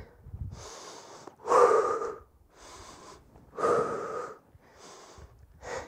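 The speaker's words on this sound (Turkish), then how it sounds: "Derin nefes al, ver. Burundan al." Deep breaths drawn in through the nose and pushed out through the mouth during an exercise cool-down, several slow close breath cycles with louder exhales, alone without talk.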